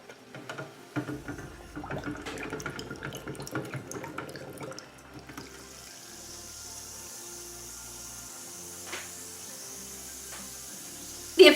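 A craft-kit bath bomb fizzes in water, opening with a burst of splashing and bubbling, then settling into a quiet, steady hiss of effervescence with faint pops and a soft clunk at the end.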